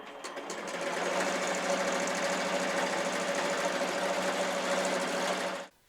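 An embroidery machine stitches a beanie, a loud, fast, even mechanical chatter with a steady whirring drone that runs continuously and then cuts off abruptly.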